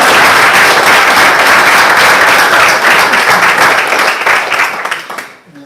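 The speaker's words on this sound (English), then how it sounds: "let's give her a big round of applause" An audience applauds loudly and steadily in a hall during a sermon service, a dense wash of clapping that fades out toward the end, with no speech over it.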